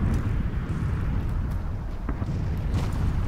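Explosions in a video game's damage zone set off a continuous, heavy, rumbling roar, with faint scattered pops and booms mixed into the dense low din.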